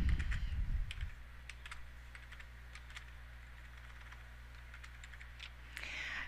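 Laptop keyboard being typed on to enter a file name, a quiet run of light, irregular key clicks over a low electrical hum, with a louder burst at the start and end.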